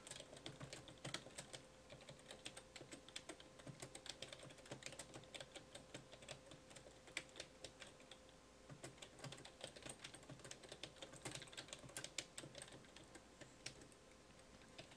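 Rapid, steady clicking of C++ code being typed on a computer keyboard, close and clear, with no talking.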